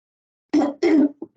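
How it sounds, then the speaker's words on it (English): A person with a cold clears their throat in two rough, throaty bursts, followed by a couple of brief softer sounds, close to the microphone in an otherwise quiet room. "Sorry, I have a cold, so I'm going to be clearing my throat a lot."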